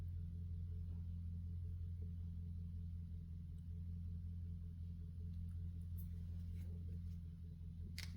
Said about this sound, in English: I just heard a vehicle outside